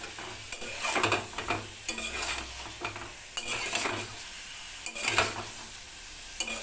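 Eggs are sautéed with spices in a pan, with steady sizzling beneath repeated scraping and clinking strokes of a metal spatula against the pan.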